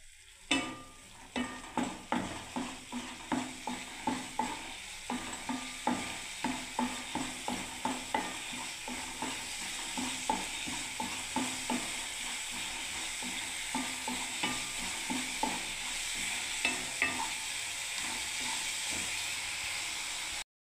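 Vegetables frying in spiced oil for ami sukto, with a spoon stirring them in a steady rhythm of scraping strokes over a continuous close sizzle. The strokes are sharp early on and blend into the hiss later.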